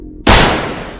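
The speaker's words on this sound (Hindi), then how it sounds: "मैंने दोबारा ट्रिगर दबाया" A rifle gunshot in a scary story about a Wendigo: one sudden, loud, close blast that cuts in abruptly, then a long booming tail that fades slowly without dying out.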